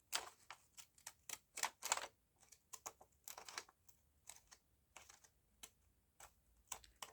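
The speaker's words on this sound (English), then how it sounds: "let's see how well we get on cutting an oval with our jiggy jaggy scissors" Zigzag pinking scissors snipping an oval shape out of paper, a run of close, crisp irregular clicks and crunchy cuts with short pauses between bursts.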